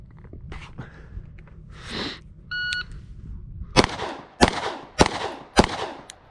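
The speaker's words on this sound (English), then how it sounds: "So 4 rounds, 4 seconds, 10 yards." Four sharp pistol shots from a Wilson Combat EDC X9 on a shooting range, evenly spaced about half a second apart and loud and close, after a brief electronic timer beep and some quieter handling noise.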